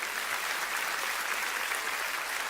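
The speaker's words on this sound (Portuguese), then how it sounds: "Você pode aplaudir ao Senhor." Church congregation applauds in a steady, even roar of many hands clapping, moderately distant and unbroken.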